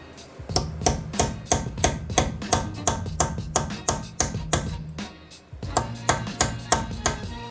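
A nail being hammered to punch a hole in a Honda Civic control arm, a fast series of sharp metallic blows, loud and close, with one brief pause before the strikes resume, and no talking.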